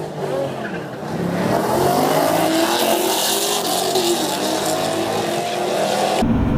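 Big-turbo Camaro making a drag racing pass at Fayetteville Motorsports Park, a loud engine roar building and sweeping upward with a rushing wind-like edge before cutting off abruptly.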